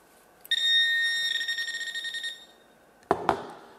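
A Garrett pinpointer metal detector held just above a ring gives a sustained high electronic buzz that breaks into rapid pulsing before stopping, followed by two sharp clicks or knocks near the end; fairly close and clear.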